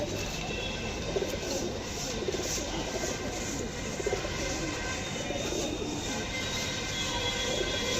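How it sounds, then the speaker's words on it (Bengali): Pigeons at a breeder's sale coo softly amid a steady, dense background hiss, with soft repeated calls spread across the whole stretch. "সো গাইস দেখে নিন পায়রাগুলো,"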